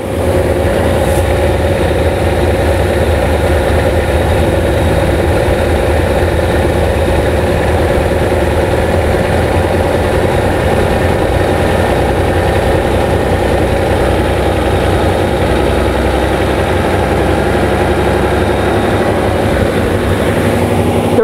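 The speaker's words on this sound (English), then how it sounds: "The engine's revving high because it prefers this mixture." A car engine on triple Weber carburettors idling at high revs after a richer mixture adjustment, a loud, steady, continuous drone with an even low rumble and no speech.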